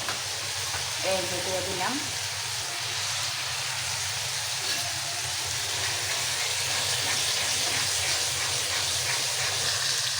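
Chopped, boiled cabbage stalks fry with green chilli paste in a pan, giving a continuous close sizzle and hiss throughout, with someone speaking briefly near the start.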